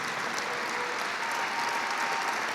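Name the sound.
audience applause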